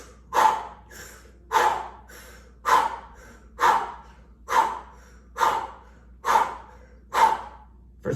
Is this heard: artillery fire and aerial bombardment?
no